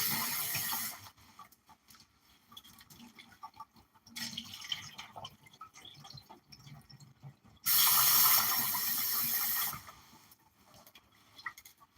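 Tap water runs into a sink in bursts while rice is rinsed, with loud gushes separated by quieter stretches of dripping and handling.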